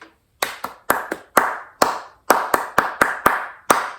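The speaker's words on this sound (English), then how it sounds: "there's an exercise where you can clap that rhythm" A single pair of hands claps a rhythm exercise from a tenor saxophone method book, about a dozen sharp, close claps in an uneven syncopated pattern with short gaps, alone without talk.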